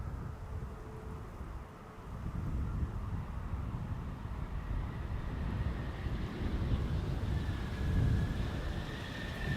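Steady gusty wind rumbles into the microphone at Amsterdam Schiphol Airport, low and continuous with a faint distant aircraft tone, no voices.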